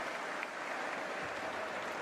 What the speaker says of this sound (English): A round of applause for Abada who heads out.